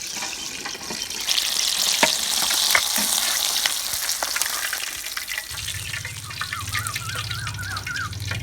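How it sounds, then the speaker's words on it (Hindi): Masala fish frying in hot cooking oil in a village kitchen, a steady loud sizzle and crackle throughout, with a low rumble joining in toward the end. "फ़िश को हमने अच्छी तरह से फ्राई कर लिया है"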